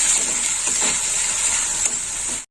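Onion paste frying in oil with whole spices, heard as an even, close crackling sizzle that runs steadily for a couple of seconds, then stops abruptly.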